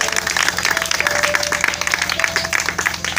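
Church congregation applauding, heard as dense, continuous clapping from a crowd that stays loud and steady for a few seconds, with no voice over it.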